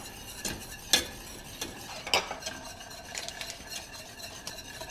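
A whisk works butter into a bourbon sauce in a pan off the heat, soft metallic clinks and scraping strokes at a gentle irregular pace with a faint sizzle beneath.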